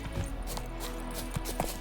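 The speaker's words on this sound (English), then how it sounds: "let's go ahead and call the horse and go this way" In The Witcher 3, a summoned horse approaches with a series of soft clip-clop hoofbeats in an uneven rhythm, moderately close against faint ambient game background.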